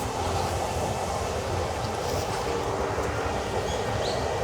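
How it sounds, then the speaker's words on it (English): A train rumbles past continuously in Japan, a loud, steady roar with low mechanical grinding and no pauses throughout. "there's quite a lot of noise from the train."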